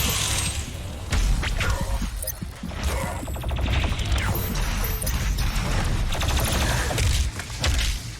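Heavy, continuous gunfire from a weapon in the shooter game Doom Eternal, with dense bursts of shots, crashes and impacts running loud and unbroken throughout, with no voices.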